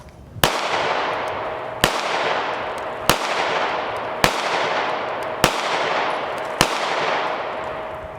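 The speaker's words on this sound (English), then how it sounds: "We took the G3 Taurus down to the range, and it reminded me of how much I like shooting the G3." A Taurus G3 pistol fires 115 grain full metal jacket rounds at a range: six loud, sharp shots spaced about a second and a quarter apart, each followed by a ringing decay.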